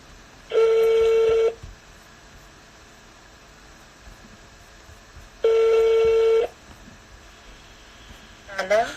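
A telephone call rings out: two long, loud ringback tones about five seconds apart through the handset, with quiet line hiss between them and a brief voice answering at the end.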